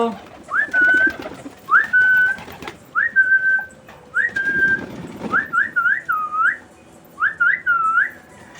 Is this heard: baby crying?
no